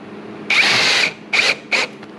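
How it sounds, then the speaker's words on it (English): A power drill drives a screw into a drawer slide on a DIY farmhouse desk, with one long whirring burst followed by two short pulses, loud and close. "I'll go ahead and add one right here using my drill"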